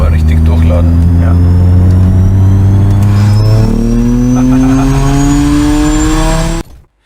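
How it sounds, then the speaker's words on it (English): Electric BMW M3 playing a synthesized high-revving straight-six engine and exhaust sound: a loud, sustained engine note that climbs steadily in pitch as it revs, then cuts off abruptly near the end. "The synthesized noise is designed to mimic a high-revving straight-six engine"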